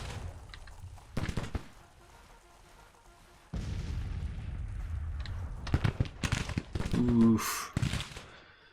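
Civil War cannon artillery booms out in a battlefield strategy game, several heavy blasts erupting in bursts with rumbling decay, the later salvos clustered close together, alongside occasional brief voices.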